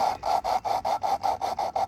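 Rhythmic coarse grinding as a valve is lapped into an overhead cam cylinder head, about nine even back-and-forth rasping strokes, loud and close with brief gaps between each pass.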